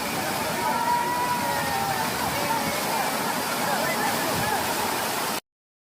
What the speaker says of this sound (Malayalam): വെള്ളം ഒഴുകണ നോക്കിയേ,